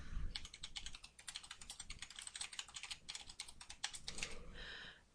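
Rapid keystrokes on a computer keyboard, clicking in quick uneven bursts close by and fairly quiet, with a brief pause near the end.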